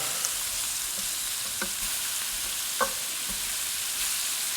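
Shrimp sizzle and fry in a pan, a steady close crackle with a few soft clicks from the pan, and no voices.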